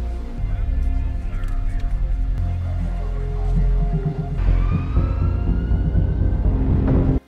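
An ambulance siren wails in a film scene, loud and close, its tone rising and sweeping over a throbbing engine-like rumble before cutting off abruptly.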